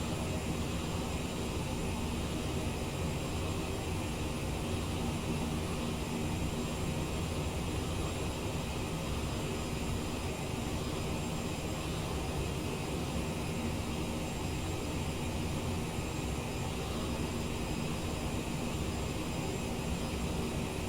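Jet engines of a CRJ900 airliner roar steadily during in-flight acceleration, a dense, unbroken cabin drone heard alone for the whole stretch with no talk.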